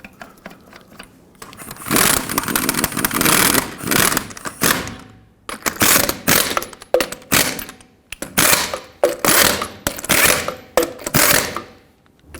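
A power tool tightens the six lug nuts on a 2009-2011 Ford F-150 rear wheel in a cross pattern, loud rattling bursts of a second or two each separated by short pauses.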